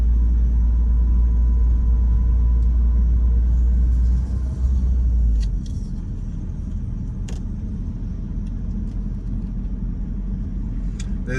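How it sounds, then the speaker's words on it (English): A small car creeping slowly along a residential neighborhood road, a steady low rumble that is loud and close at first, then drops to a softer hum partway through, with no voices. "what is this little tiny car doing creeping up the road?"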